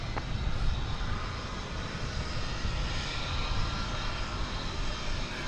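An American Airlines jet takes off from runway 18 left at DFW Airport, a broad steady engine roar that stays loud and even throughout with no talking.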